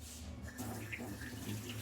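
Tap water runs steadily into a kitchen sink while hands are washed during home dinner prep, a continuous close splashing hiss with no talk.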